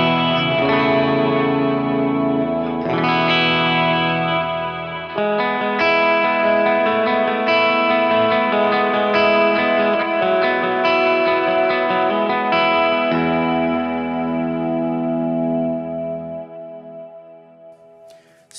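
Clean electric guitar chords through a Strymon Iridium amp modeler with a 4x12 cabinet impulse response ring out loud and full, strummed changes sustaining into a long decaying tail with no talking.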